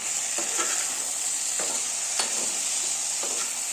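Flat beans fried until reddish sizzle steadily in a hot pan as turmeric powder and salt are stirred in, with a spatula scraping in a regular rhythm about once a second over the constant hiss.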